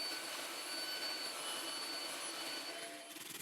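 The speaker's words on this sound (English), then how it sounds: "used a sander to clean up the edges" Sander running over the edges of wood and epoxy manhole coasters, a steady faint hiss and whine, continuous and without talk, easing off at the very end.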